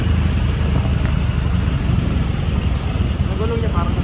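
A Can-Am 1300 three-wheel motorcycle idles nearby, a steady low engine rumble running under a voice throughout.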